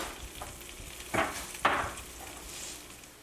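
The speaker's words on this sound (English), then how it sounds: "Now let's stir it all up" Tomato puree sauce stirred in a pot, with two short scraping swishes of the spoon about half a second apart, quiet and close, over a faint low hiss.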